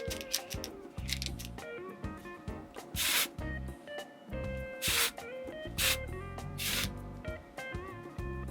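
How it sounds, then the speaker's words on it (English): A can of dry shampoo is shaken and sprayed onto hair close by, with several short bursts of hissing spray between rattling shakes and soft rubbing sounds. "Let's apply this dry shampoo. Shake it up, activate everything."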